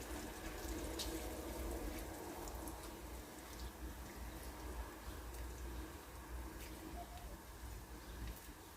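A pot of water with parsley bubbling on a stove, a steady, quiet, broadband hiss and simmer that holds evenly throughout with no voices.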